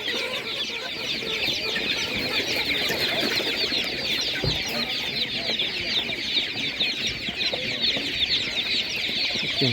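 Dense chorus of chickens clucking and squawking at a busy village animal market, steady and loud throughout with a brief thump midway; faint voices mingle in the background.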